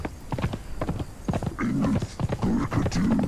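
A horse ridden in the Conan Exiles video game: quick, rhythmic clip-clop hoofbeats thud close by, joined partway through by a drawn-out, tonal horse snort or whinny over the galloping.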